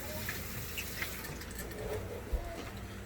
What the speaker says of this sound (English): So now I'm going to rinse off this spoon right here.